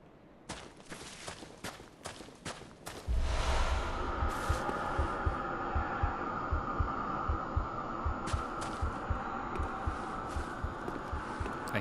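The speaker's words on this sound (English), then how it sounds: "I hear a heartbeat. I hope that is from the game." A steady, throbbing heartbeat in the video game Bloodborne, repeating rhythmically and loud over a droning hum, with a burst of sharp crackling shots near the start.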